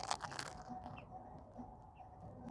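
Crunchy bites into thick bread of a salmon avocado sandwich with cheese, a few soft crisp crunches and chewing up close, with no talk.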